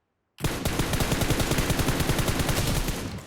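Sustained automatic gunfire in PUBG Mobile, a rapid, steady burst of shots lasting about three seconds after a short silence, loud and close.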